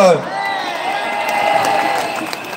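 A street protest crowd against the health pass applauds people carrying an Australian flag. Scattered clapping and cheering sound moderately distant, with a voice ringing out over the crowd.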